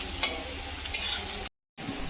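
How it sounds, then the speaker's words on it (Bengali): Onions browning in hot oil in a pan, cooked for home-style curry, a continuous close crackling sizzle broken by two spatula stirs, then a brief gap of silence before the frying resumes. "এদিকে পেঁয়াজটা ভাজা হচ্ছে"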